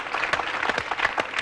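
A TV studio audience applauds a majorette troupe from Anières in a short, steady burst of clapping that stays even and fairly close for its whole length.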